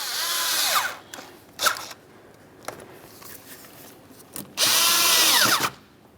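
A power tool or socket driver spins in short whirring bursts, tightening the hose clamp on an air intake tube of a 2001-2005 Ford Explorer Sport Trac; two long bursts frame several brief clicks and taps, close and fairly loud.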